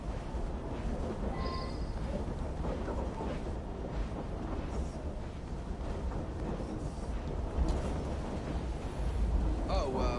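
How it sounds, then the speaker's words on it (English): A train in Assassin's Creed Syndicate gives a continuous low rumble and clatter from inside a carriage, steady throughout with some faint voices mixed in. "it's a noisy train"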